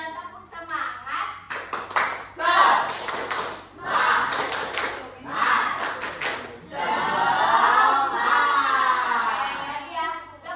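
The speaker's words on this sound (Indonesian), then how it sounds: "coba kita tepuk semangat dulu ya" A class of children in a classroom performs the rhythmic 'tepuk semangat' clap, sharp bursts of group clapping in a set pattern alternating with loud chanted and shouted voices, close and lively.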